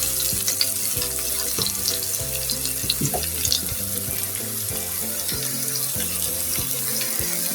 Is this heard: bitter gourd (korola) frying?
yes